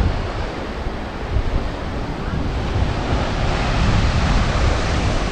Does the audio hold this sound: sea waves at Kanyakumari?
yes